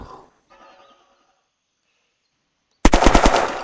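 A military gun with Viper magazines fires in the video game Unturned. Near silence gives way to a sudden, loud burst of rapid automatic shots close by, cut off at the end.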